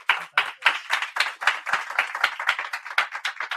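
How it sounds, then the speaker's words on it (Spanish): A live audience applauds at a graphic design talk, with a steady, fairly loud run of dense clapping that carries through the whole stretch without any voices. "os pido un gran aplauso para estos dos monstruos"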